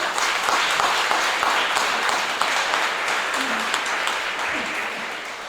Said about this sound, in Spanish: Denle un aplauso a Él si usted quiere.